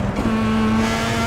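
Sim racing car engine in a video game revving up, a steady strained whine holding a constant high pitch, loud and close with a brief tire-like rasp at the start.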